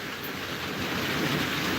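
Rain falls in a steady, dense hiss with no breaks, fairly close and even throughout, with no voices over it.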